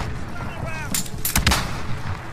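A stun grenade detonates in a first-person shooter video game, a couple of sharp, loud blasts bursting near the middle amid game noise and faint talk.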